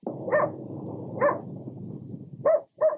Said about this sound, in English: A barking dog senses something terribly wrong